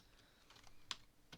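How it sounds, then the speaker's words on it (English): Sparse keystrokes on a computer keyboard, a few soft, quiet clicks spaced irregularly with one sharper tap, close by in an otherwise hushed room. "I can't believe I'm typing this in"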